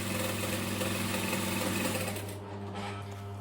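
A sewing machine stitches fabric straight across, a loud close steady whir with rapid needle chatter that slows and softens in the final second.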